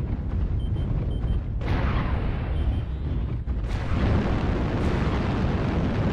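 Mech destruction explosion in the video game Mechwarrior Online: loud, continuous booming blasts with sharp bursts around two and four seconds, set over heavy rumbling combat noise and no talking.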